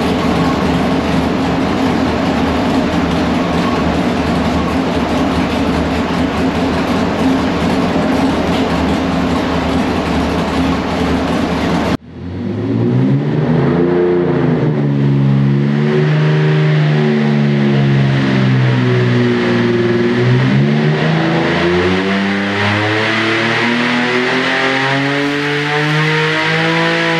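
A 4.3L LV3 V6 fitted with a stage two camshaft runs on a dyno: a steady loud roar at first, then after a brief dip the engine note sweeps up and down through repeated revs, close and unbroken.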